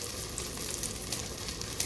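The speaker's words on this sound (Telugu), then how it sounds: "ఇది కొంచెం వేగాలి, వేస్తే బాగుంటుంది. వేసుకోవచ్చు, ఏదో క్యారెట్ ఉందని వేసేస్తున్నాను." Carrot pieces fry in a pan of oil for coconut rice, giving a steady, close hiss and sizzle with faint crackles throughout and no voices.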